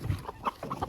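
Hens in a backyard poultry yard, fed alongside turkey poults and chicks, give a few short, soft clucks close by, with no talk over them.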